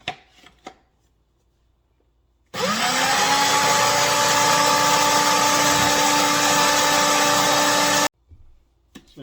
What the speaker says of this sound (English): I'm gonna get it in my food processor, and I'm gonna get that blend out nicely.